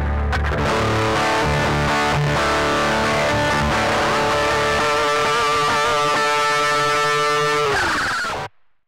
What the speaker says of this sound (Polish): można usłyszeć, że jest przester, jest bardzo głośno